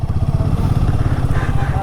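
A motorcycle engine idles and rumbles steadily at a highway toll plaza on a ride from Shimla to Manali, close and continuous, with talk over it.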